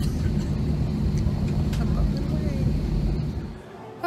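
Airliner engines roar steadily during the takeoff roll, a deep continuous rumble heard from inside the cabin that drops away near the end.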